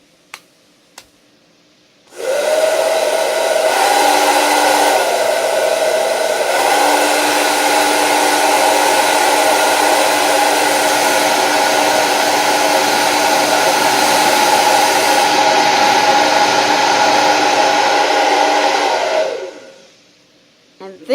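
A Kingstar hair dryer switches on and blows with a steady whooshing motor roar for about seventeen seconds, shifting briefly as its speed or heat setting changes, then winds down to silence, close and loud.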